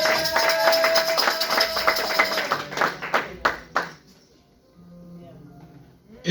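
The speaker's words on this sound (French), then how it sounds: "On acclame pour le Seigneur." A church congregation at a Sunday service claps together in a fast, steady rhythm for about four seconds, loud and close, with voices mixed in before the clapping stops and the room quiets.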